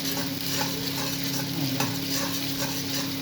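Onion, ginger and garlic sizzle in a pan while a spoon stirs through them, a steady close frying hiss with soft scraping strokes and no talk.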